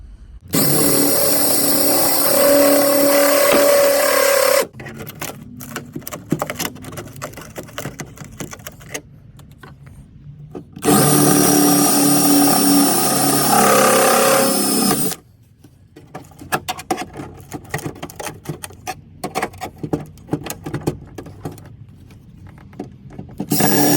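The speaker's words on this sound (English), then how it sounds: "And as I drill, when I get through, this should separate when I'm through that hole right there." A power drill bores through the rusty shock tower of a Ford Escape in two loud, sustained bursts of whining and grinding, separated by quieter stretches of clattering handling noise.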